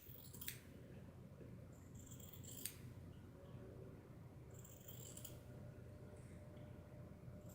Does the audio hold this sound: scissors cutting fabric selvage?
yes